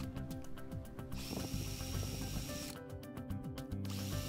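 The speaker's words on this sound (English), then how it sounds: "Loosely tighten the four bolts." Bolts being tightened on the housing of a Jabsco quad head pump, with steady ratcheting and mechanical tool clatter running through the clip, close and fairly loud, with no talk.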